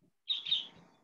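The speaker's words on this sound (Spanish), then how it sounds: "escuchamos al loro" A pet parrot in a cage gives a short, bright chirping call at close range. A faint low sound comes just before it, and the call has no talk over it.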